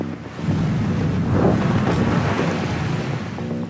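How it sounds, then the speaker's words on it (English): A tropical storm lashes an island, with a steady roar of wind and surf and a deep rumble that may be thunder, all continuous and fairly loud, with no voices. "An hour before nightfall, a tropical storm hits the island."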